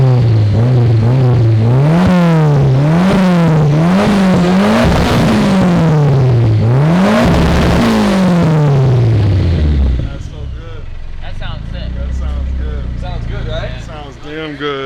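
Nissan Silvia S15 VVL four-cylinder running right after its first start, loud close revs rising and falling repeatedly through a deep exhaust note, then settling to a rough idle, with people talking over the engine.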